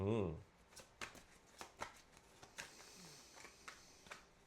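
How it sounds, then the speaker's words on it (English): Tarot cards are shuffled close by in a quiet room, a series of crisp riffling and snapping bursts at an irregular rhythm. Someone briefly vocalizes at the very start. "Ooh, we gotta shuffle these some more."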